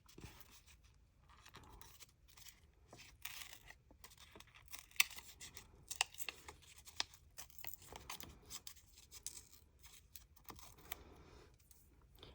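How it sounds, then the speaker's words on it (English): Paper torn by hand for an art journal, with quiet close tearing and crinkling in several separate rips and pauses between them, and no voice heard. "And another way that you can rip too that adds interest is let's rip right here."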